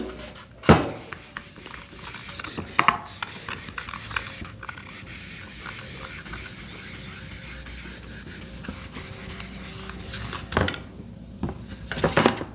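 During a chemistry class, writing on a board is rubbed out with brisk scrubbing and scraping strokes, close and continuous for several seconds, broken by a few sharper knocks.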